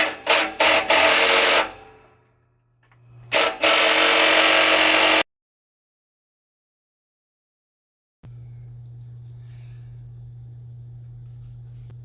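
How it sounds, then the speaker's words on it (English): Loud bursts of an impact or power tool loosening the anode rod on a water heater with a 27mm socket, working in two spells with a short pause, then silence followed by a steady low motor hum. "So what we can do now is loosen off the anode"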